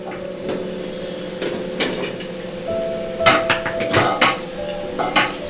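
Steamed corn-spinach muthiya are lifted out of a metal steamer, bringing scattered clanks and clinks of steel plates, lids and utensils, close and uneven, with a light ringing tone in between.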